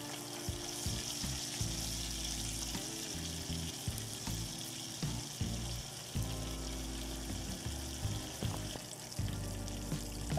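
Salisbury steak patties brown in a frying pan with a continuous quiet sizzle and fine crackling spatters, heard close and alone with no talk.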